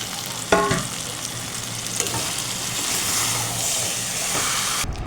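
Chicken pieces and potato frying in a hot pan, a loud continuous sizzle with a sharp clatter as food goes in and stirring throughout, with no talking.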